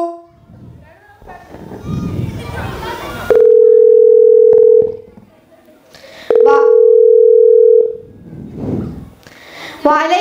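A telephone dial tone sounds twice while calling a school, each time a steady, loud, unbroken tone lasting over a second. Voices speak before, between and after the tones.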